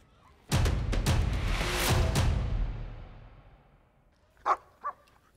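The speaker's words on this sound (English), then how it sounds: "Probably the main reason Cora is barking like this is because of a prey drive." A German Shepherd on a leash barks aggressively in a loud, sustained burst of rapid, overlapping barks, then falls quiet before two shorter, sharper yelps or barks near the end.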